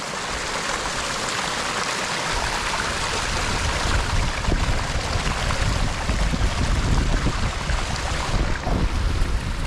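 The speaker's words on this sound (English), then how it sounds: "There's a wee stream in Spate" A small mountain stream in spate in the Mournes, beside Ben Crom Reservoir, rushes past close by as a steady, full roar of water that swells slightly louder midway, with no voices.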